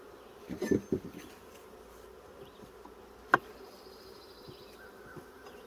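Honeybees buzz around an open hive during an inspection, a faint steady hum with a few louder passes near the start and one sharp knock midway.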